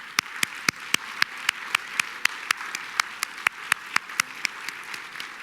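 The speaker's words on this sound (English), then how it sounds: "Another round of applause for the Teen Worship Ensemble." Slow, evenly spaced rhythmic clapping from a small audience at a poetry and music event honoring a teen worship ensemble, each clap crisp and distinct, about three per second throughout.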